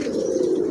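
Domestic pigeons held for sale coo in a steady, continuous low murmur, close by and fairly loud, with no talk over it.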